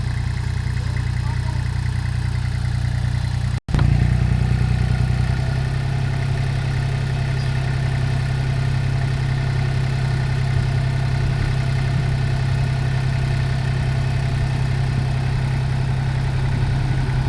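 A steady, loud, low engine drone comes from an excavator idling close by as it is driven onto a trailer. The rumble cuts out for an instant near the start, then carries on unchanged with no voices.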